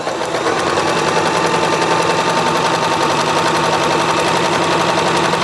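A Bernette b33 domestic sewing machine runs continuously while stitching a seam at a longer stitch length, a steady close mechanical whir and rapid needle chatter with no pauses or voices.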